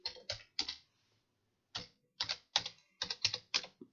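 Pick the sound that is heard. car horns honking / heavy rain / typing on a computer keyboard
typing on a computer keyboard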